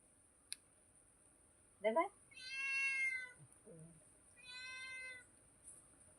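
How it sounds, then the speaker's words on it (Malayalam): A kitten meows a few times, short drawn-out cries with pauses between them, close by in a quiet room with a faint high whine in the background. "നമ്മളെ പൂച്ചക്കുട്ടി ഉള്ളിൽ ഇങ്ങോട്ടേക്ക് വരുന്നതാ"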